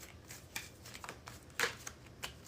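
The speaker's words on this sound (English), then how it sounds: "We're going to go ahead and get 3 more shuffles." Tarot cards being shuffled by hand in a bridge shuffle, with a series of quick papery riffles and taps, one sharper burst near the end, close and fairly quiet with no talking.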